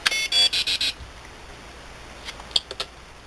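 A quick series of five or six sharp electronic beeps from a radio transmitter sounds at the start, followed by quiet with a few faint clicks and a soft high tone.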